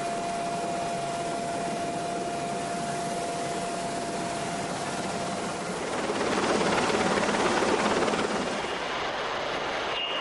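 Rescue helicopter hovering overhead during a highline winch evacuation, a steady broadband rotor and turbine roar that swells louder for a few seconds near the end, with no talk.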